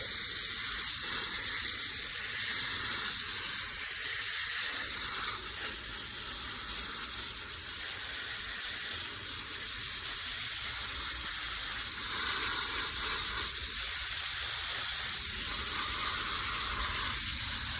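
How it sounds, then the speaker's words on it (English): Potted plants in a bright backyard spot being watered after drying out, a steady, close hiss of spraying water that runs unbroken for the whole stretch with no speech. "I'm watering these pretty well because they were pretty dry"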